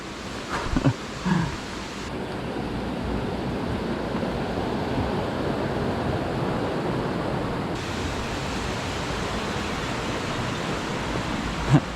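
Water rushes under a small footbridge on a mountain trail near Taipana, a close, steady hiss and roar of flowing water, with a few brief knocks and footsteps at the start.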